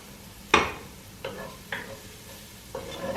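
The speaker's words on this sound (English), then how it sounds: "And you want to cook the flour until it becomes golden" Flour is stirred into hot oil in a pot for a broccoli cheddar soup, giving a soft, steady sizzle broken by a few scraping stir strokes, one sharper than the rest.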